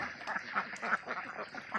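Farm ducks quack softly after feeding on a rainy-season morning, a few short, faint calls repeating irregularly at a distance.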